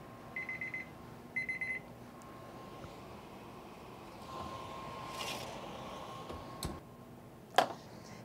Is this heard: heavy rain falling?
no